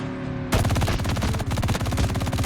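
Automatic gunfire in a video game drive-by shootout: after a brief quiet start, rapid loud bursts rattle continuously in a fast, even rhythm.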